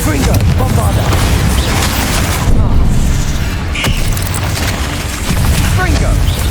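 Bombarda and Confringo blasting spells in the game Hogwarts Legacy, a dense stretch of loud booming explosions and crackling impacts layered over each other, with a voice speaking through the continuous combat noise.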